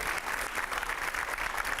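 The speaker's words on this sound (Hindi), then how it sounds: "जोरदार तालियां रुकनी नहीं चाहिए" Enthusiastic applause from a live audience welcomes former Madhya Pradesh chief minister Uma Bharti onto a stage, a dense, steady clatter of clapping that runs unbroken throughout at moderate volume, with no talk over it.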